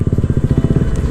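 Motorcycle rolling slowly at low revs, a steady pulsing engine thrum throughout, close and fairly loud, on a ride toward a farm resort in Subic, Zambales.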